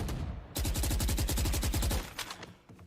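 Pistol gunfire in a Valorant esports match at the world championship, heard as a dense run of rapid, evenly spaced loud shots for about a second and a half, then trailing off into scattered fainter pops.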